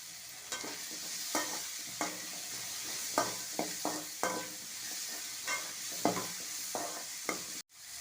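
Garlic and ginger sizzle steadily in a hot pan for mutton curry, with a spoon or spatula scraping and stirring at regular intervals over a constant close frying hiss.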